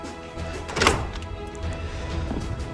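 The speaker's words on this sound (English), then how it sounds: "As we go outside, let's open up these doors." Rear patio doors of a house are unlatched and opened, giving a close thunk and a brief rattle followed by a softer knock against quiet room noise.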